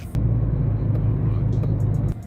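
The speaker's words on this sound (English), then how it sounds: "this is now my first drive in the Subaru with the strut bar" A Subaru with a newly fitted strut bar drives along, a low, steady engine and road rumble heard from inside the cabin, with a couple of light knocks over it.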